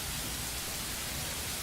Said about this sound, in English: Wow, this is very sudden rain. It's raining.